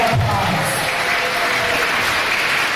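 A gala audience applauds the event sponsors with dense, sustained clapping from a full room, steady and fairly loud throughout, with a faint voice or cheer briefly mixed in.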